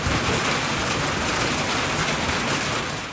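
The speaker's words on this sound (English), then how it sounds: "blue skies turned into a torrential downpour" A heavy downpour at a softball game roars in a dense, unbroken wash of rain, loud and close throughout with no voices.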